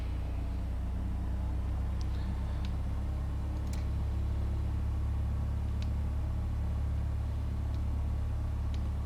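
A Piper Cherokee's engine idles steadily at 1000 RPM in a flight simulator game, a constant low droning rumble that carries on evenly throughout with no voices.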